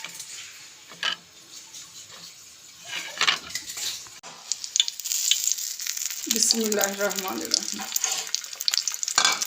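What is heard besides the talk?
egg-dipped chicken shami kababs frying in a pan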